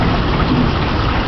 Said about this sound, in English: It's a lot of rain.